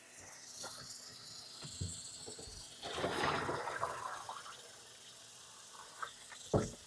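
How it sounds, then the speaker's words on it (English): Cold tap water runs into a kitchen sink over blanched broccoli, a splashing, hissing gush that swells midway, with scattered clunks and knocks around it. "I'm just letting the cold water run on it"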